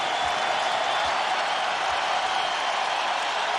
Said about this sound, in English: And it's going to be a prolonged ovation as they witness Michael play for the final